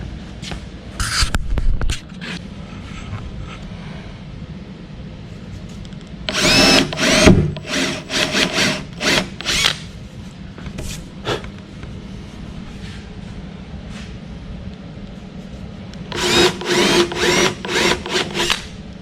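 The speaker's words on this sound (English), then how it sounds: "we're going to start the drilling" A power drill whines in several bursts of varying length, drilling holes into wood for a small river table, with quiet pauses between runs and no talk.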